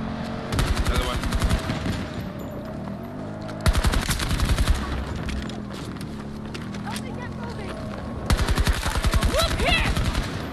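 Automatic gunfire in the shooter Battlefield 2042 Hazard Zone, loud rapid bursts repeating in several long strings over rumbling battle noise, while players talk throughout.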